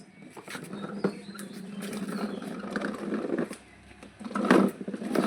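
Pigeons on a street coo faintly and intermittently amid irregular background bumps and rustling, with a louder burst of noise near the end.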